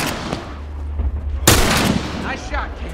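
A sharp, loud gunshot crack in The Last of Us Remastered video game, a single heavy blast midway through under a low ambient rumble, with faint voices afterward.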